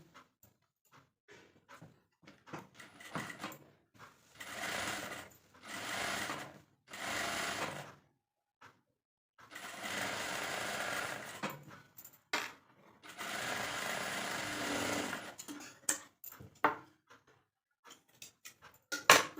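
A sewing machine stitches blouse fabric in several short bursts separated by pauses, with light clicks and handling noises of the cloth between runs.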